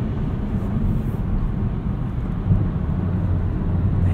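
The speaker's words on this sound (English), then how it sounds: "a little bit of tire noise" Steady low road rumble of tires inside a 2020 Kia Soul X-Line cruising at night, a continuous near drone with slight wind and no talk.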